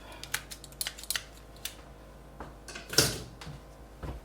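Scissors snip the tip off a pastry bag filled with cream cheese, heard as a few close, sharp clicks and rustles, with one louder snip near the end.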